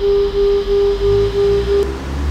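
A steady pure tone made from two sine waves at 400 and 403 Hz, swelling and fading in a slow, even pulse about three times a second, loud and alone with a soft background hiss.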